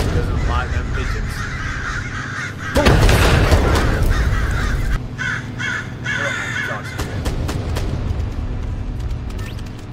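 Pigeons in the Black To Fall video game give repeated harsh, cawing calls, loud and near, broken by a sudden loud burst partway through, with game noise throughout and a voice talking under it.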